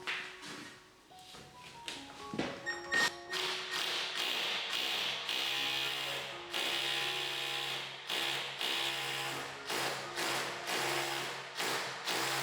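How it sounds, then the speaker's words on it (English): A hammer drill chatters into a dot and dab wall behind plasterboard, starting with a few uneven taps before settling into a sustained rattling grind, close by. "I'm then going to switch on the hammer action."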